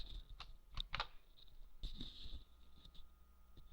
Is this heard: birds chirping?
no